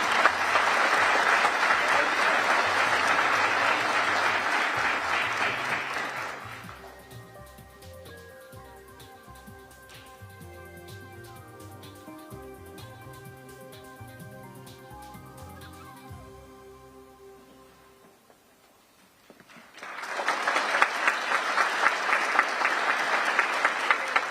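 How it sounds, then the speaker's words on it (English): Firefighter recruit graduation: a long burst of crowd applause fades to quieter ceremony sounds with a sustained musical tone, then a second loud round of clapping erupts as the next recruit is called for a badge. "It is good to applaud."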